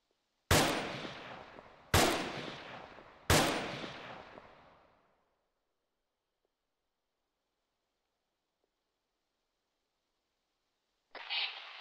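Corpse Explosion skill in the Diablo 2 video game, three loud sharp blasts about a second and a half apart, each decaying into a rumble, then silence before a brief noise at the end.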